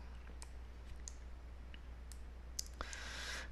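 A computer mouse clicking on a Submit button, a few sharp, faint clicks scattered over a quiet room hum, with no talk.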